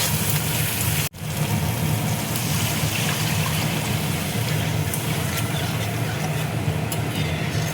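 Water is poured into a pan of frying masala spices, giving a steady, loud broadband hiss and rush that keeps going throughout, broken by one brief dropout near the start.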